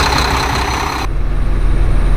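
A Mack truck diesel engine runs at high idle, a steady rumbling drone that sounds close and fairly loud, with a low pulsing throb.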